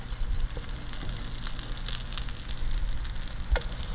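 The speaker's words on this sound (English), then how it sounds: "Mayonnaise side down in the frying pan" Bread spread with mayonnaise fries face down in a hot pan for a grilled cheese sandwich, giving a steady, close sizzle with scattered crackles and no talking.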